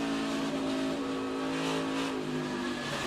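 NASCAR stock cars race at Darlington in a late-race battle for the lead, their engines roaring together in a dense, sustained drone with a rising and falling pitch as the pack passes.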